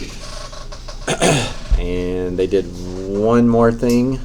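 A single sharp sneeze bursts out close by, followed right after by a person talking.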